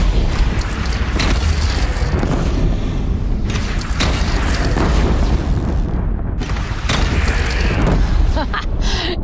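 Cannon fire in Horizon Zero Dawn: loud repeated booming blasts in a chaotic battle, with several heavy impacts across the clip and character voices talking over the din.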